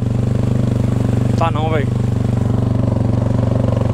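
A Honda CRF 250 motorcycle engine runs deep in floodwater with a steady, loud, pulsing throb. Someone briefly speaks over it partway through.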